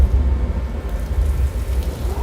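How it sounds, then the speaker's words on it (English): Artificial rain from sprinklers patters on a studio set, a steady hiss of falling water over a low rumbling undertone that swells and eases slightly. "I'm going to activate the rain."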